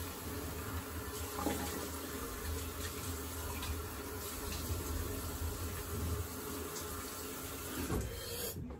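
Cold tap water runs steadily into a sink for rinsing the face after a razor shave, a constant close splashing stream with a faint high whine above it and no voices.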